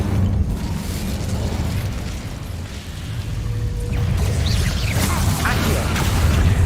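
Incendio fire spell cast in Hogwarts Legacy, a loud rushing burst of flame with rumbling low end that swells and roars continuously, layered with game effects.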